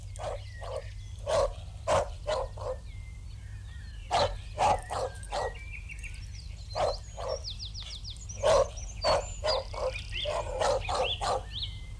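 A dog at a lonely house in the west of Ireland in 1969 barks repeatedly in short bursts, fairly close, with birdsong chirping faintly in the background.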